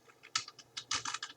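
CSS code typed on a computer keyboard: quick, close, quiet key clicks in uneven bursts, about a dozen strokes in little more than a second.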